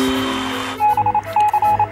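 A Morse-style electronic signal plays as steady single-pitch beeps in short and longer bursts. They enter after a brief stretch of muddled background sound and come through clear and fairly loud.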